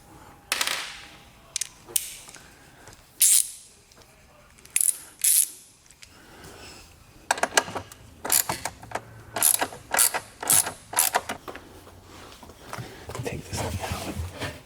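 Metal clicks and ratcheting as a bolt is threaded and tightened during a car battery install, with irregular sharp bursts spread through the clip, a faint voice in the background.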